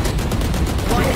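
A gunshot headshot in a first-person shooter game: a short, loud, dense burst of gunfire sounds close up, filling the brief moment with little pause.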